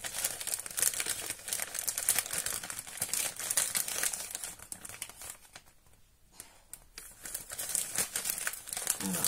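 Paper gift wrapping crinkles and tears close by as an advent calendar present is unwrapped, dense crackling rustles running steadily with a brief quieter pause midway.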